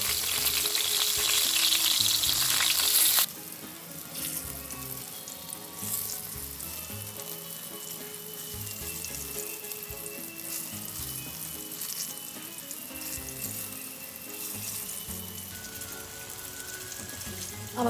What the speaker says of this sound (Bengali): বেগুনটা ভাজা হতে থাকে